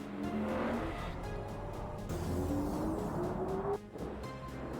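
A Hyundai N Vision 74 concept car is driven on a racetrack, its engine note rising steadily with a brief squeal, loud and continuous, then dipping briefly before resuming.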